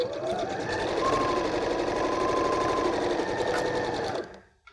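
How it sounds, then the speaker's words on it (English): A sewing machine runs a straight stitch on fabric, a fast steady mechanical whir and rapid needle clatter lasting about four seconds before stopping, close and alone. "And if you sew down, set your machine back to a straight stitch."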